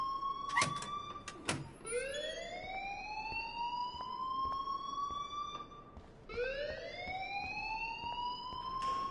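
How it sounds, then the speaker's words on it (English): An alarm ringing in the video game Life is Strange, a loud rising electronic siren-like wail that sweeps up and holds, repeating twice, with a couple of sharp knocks near the start. "please turn off that alarm since that's your job"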